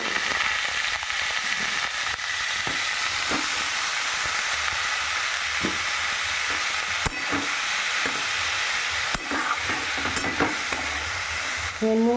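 Leafy greens frying in a wok with dried red chillies, salt and turmeric, giving a loud continuous sizzle and hiss broken by occasional scraping stirs of a spatula, close up, with no talking.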